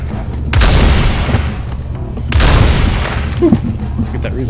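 Two loud booming shotgun blasts from the video game No More Room In Hell, about two seconds apart, each with a lingering decay, with background game noise throughout.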